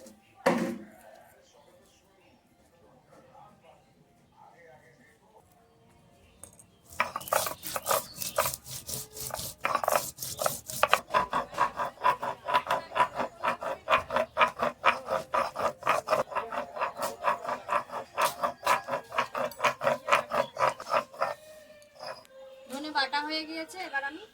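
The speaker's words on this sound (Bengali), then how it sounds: "এই যে দেখুন ধনেটা আমি বেটে নিচ্ছি।" Coriander seeds are ground by hand on a stone grinding slab, making rhythmic rasping scrapes that start after a quiet stretch and run steadily. The scraping is close and fairly loud, with someone speaking near the start.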